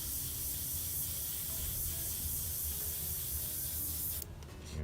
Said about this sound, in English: we've put the white aluminum into the cup of the airbrush